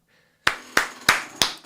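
Four sharp, evenly spaced hand claps, close and moderately loud, imitate an audience's applause in a small indoor setting, with silence before the first clap.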